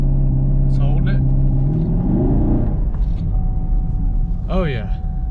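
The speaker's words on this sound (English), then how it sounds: "we're going to jam the brake, press the throttle, let's hold it." A 2021 Chevrolet Camaro SS is held on the brake while its throttle is pressed for a launch-control start, producing a loud, steady engine drone whose pitch rises and swells; a voice breaks in briefly near the end.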